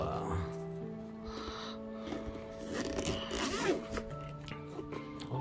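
A zipper on a rubberized Nintendo Switch carrying case being drawn open, a faint rasping pull close by amid low rustling.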